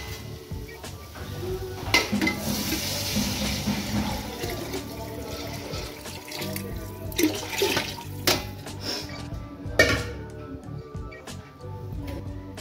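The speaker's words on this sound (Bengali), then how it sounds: "এবার আমি পানিটা ঢেলে দেবো।" Water is poured into a cooking pot of spiced khichuri with potatoes, a close, gushing splash and gurgle that rises and falls in bursts with occasional clanks of metal cookware.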